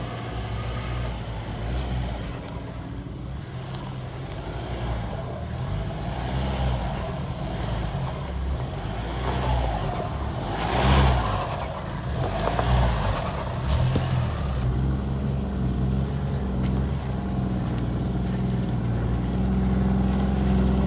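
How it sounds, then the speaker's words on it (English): Car engines idling as the cars warm up before an outing around Lithgow, a steady low rumbling drone throughout with a slight rise in revs midway, close and continuous, no voices. "we're gonna warm up the cars"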